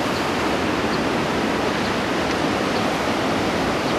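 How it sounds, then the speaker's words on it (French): Ocean waves breaking on the beach at Anglet, a steady, even wash of surf roar with no distinct individual crashes, moderately loud and continuous. "on a aussi quelques vagues qui passent"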